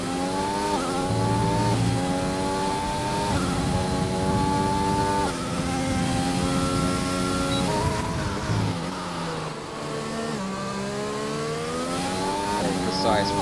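Race car engine on a push lap in a racing video game at Bahrain, loud and close, climbing through repeated gear shifts with brief dips and rises, while a voice talks over it.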